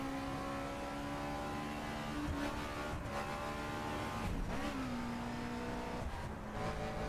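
A racing car engine in the video game The Crew drones at high revs, holding around 6,000 RPM in 4th gear, with brief dips and climbs as gears shift, continuous and close throughout.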